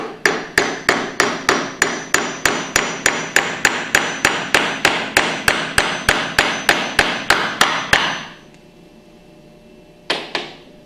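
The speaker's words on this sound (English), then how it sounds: "tap it in with a hammer gently until you feel it bottom out" Steady metallic hammer taps seating a bearing in a piston pump, about twenty evenly spaced strikes at a brisk rhythm, close by, then a pause and two final quick taps.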